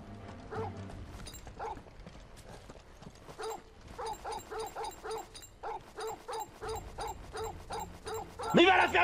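Dog barking in Final Fantasy XVI, a rapid series of repeated yips and barks running through the scene over game sounds and background music, with someone speaking at times.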